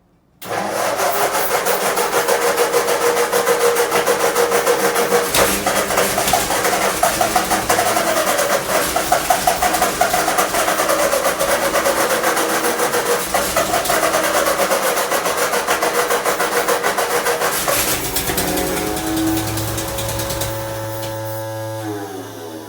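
A 1952 Ford 8N tractor engine cranks and catches, then runs loudly with a rough, steady chug before sputtering and winding down near the end.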